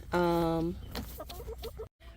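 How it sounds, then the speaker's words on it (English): Chickens in an 8 by 8 chicken tractor cluck close by, one drawn-out squawk followed by a quick run of short clucks. "We have 10 chickens"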